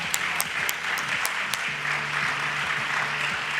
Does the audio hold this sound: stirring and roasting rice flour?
no